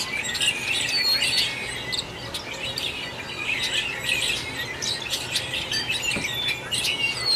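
Birds chirp and tweet in park trees at Havasu Landing, a busy chorus of short high calls from several birds at moderate distance, steady throughout with no talking.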